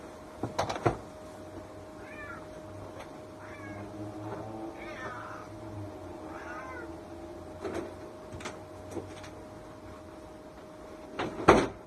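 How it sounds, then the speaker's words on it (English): A house cat meows several times in a closed room, wanting to be let out, with a few thuds like a door or cupboard knocking at the start and end, all fairly close and moderately quiet. "my cat wants to get out of the room"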